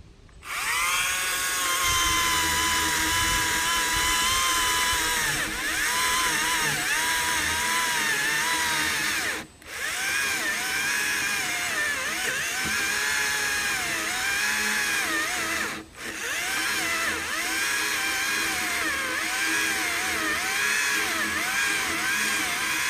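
A Stihl battery-powered chainsaw cuts through an oak limb near a sawmill, its steady high motor whine loud and continuous for the whole stretch, dipping briefly twice as the load eases.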